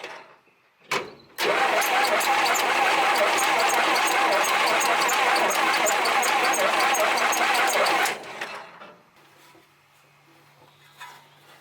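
An old truck left sitting for 32 years cranks briefly, catches and runs loud and rough for several seconds with a dense, buzzing mechanical clatter close by, then cuts out abruptly to near silence.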